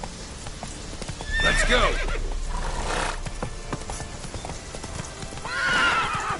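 Roach, the horse in The Witcher 3, lets out two loud neighs over close, steady hoofbeats, and someone speaks briefly between the whinnies.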